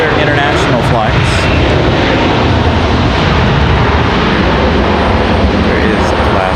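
Alaska Airlines Boeing 787 Dreamliner at Raleigh-Durham airport, a loud, close, continuous jet engine roar filling the whole clip, with someone talking beneath it.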